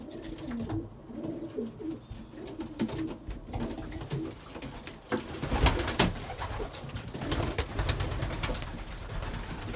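A loft of breeding pigeons coos in soft, overlapping low burbles with no let-up, alongside rustling, scraping movement and a few sharp knocks.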